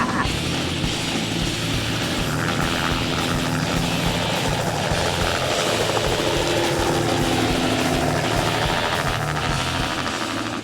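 A helicopter roars steadily and close over Costa Rica's Osa Peninsula, its rotor and engine noise loud and unbroken throughout with no voices.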